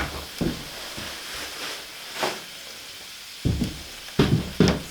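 Moose sausages sizzling in a pan outdoors at a log cabin build: a steady close hiss of frying fat, broken by several brief louder crackles and stirring scrapes.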